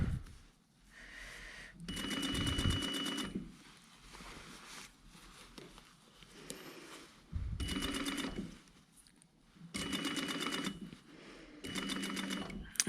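Domestic sewing machine stitching around a jacket sleeve insert, running in several loud, fast mechanical bursts of a second or two each with quiet pauses between, including a back tack over the starting point.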